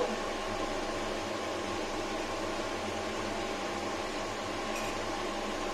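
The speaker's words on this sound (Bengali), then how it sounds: "একবার চিমনিটা চালিয়ে নিলাম" Kitchen chimney exhaust hood running over a stove, a steady broadband whoosh of air with a faint motor hum, constant and close with no talking.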